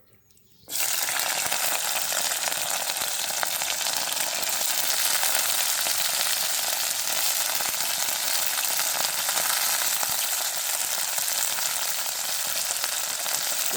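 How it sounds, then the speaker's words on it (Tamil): Freshly washed pirandai (adamant creeper) drops into hot oil and a loud, dense, continuous sizzle starts at once and holds steady throughout. "இப்போ நான் எண்ணெயில் வதக்கி எடுக்க போகிறேன்."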